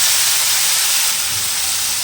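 Onion paste hits hot oil with fried whole cumin and cardamom for a pomfret curry, giving a loud, steady broadband sizzle that hisses continuously and eases slightly toward the end.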